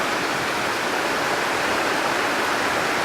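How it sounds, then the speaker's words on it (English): Heavy rain pours down during a thunderstorm in Smithtown, falling onto a backyard pool; a dense, steady, close hiss fills the scene without a break, with no voices. "Wow, this is raining pretty hard."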